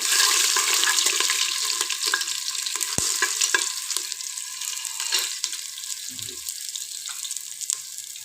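A spoon stirs chopped potato into vegetables frying in a pan for mixed veg and pea biryani, a steady sizzling hiss with occasional scraping clinks, close and moderately loud, no talking.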